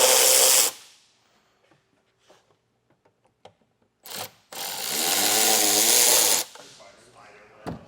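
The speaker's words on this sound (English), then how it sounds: "I'll grab a drill and take those out." A power drill removing screws on a 2023 Buick Encore whirs in two bursts, a short one followed by a longer sustained run, with quiet clicks and handling noise between.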